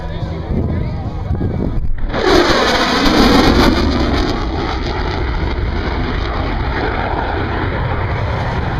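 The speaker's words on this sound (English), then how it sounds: "Ladies and gentlemen, the Super Hornet high-speed pass." An F/A-18 Super Hornet roars past at high speed at an airshow, a sudden loud rush that peaks then settles into a sustained engine roar with wind noise.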